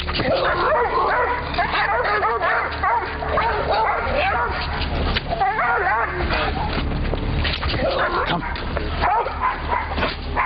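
A dog out on a walk barks, yips and whimpers repeatedly and excitedly, mixed with people talking over it the whole time, with a steady background rumble.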